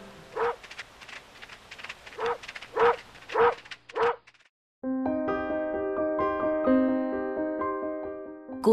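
Neighbor's dog in an animated folk tale on a rainy night, barking about six times in close, sharp bursts; after a short gap, soft music plays.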